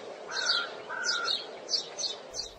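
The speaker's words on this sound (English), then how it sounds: "it looks like the bird is singing a song" A small bird sings in a quiet setting, giving five short chirping phrases in a steady rhythm. The song is soft and slightly distant, with no talking over it.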